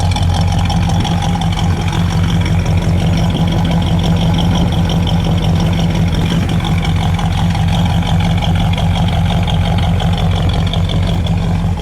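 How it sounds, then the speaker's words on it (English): A 1970 Oldsmobile 442 idling through its exhaust, a steady deep burbling rumble, loud and close, with no break for the whole stretch. "I love that exhaust."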